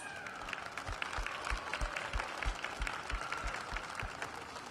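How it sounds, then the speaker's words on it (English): Audience at a wheelchair rugby gold medal game between Japan and Canada applauds event supporters, steady clapping from a crowd with distinct nearby claps, moderately far and even throughout. "Please give a round of applause to the many supporters that helped make this event a success."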